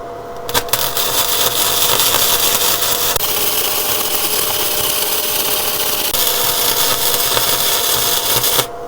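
A Weldinger ME 130 Mini Flux 130-amp inverter flux-core wire welder runs at half power, producing a loud, continuous sizzling crackle with a steady hum, starting after a brief sharp burst and running unbroken to the end.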